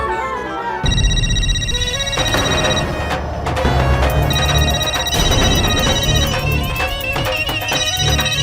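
A telephone rings on and on without being answered in a Hindi sitcom household. Bright electronic ring tones repeat in steady bursts over busy background sound.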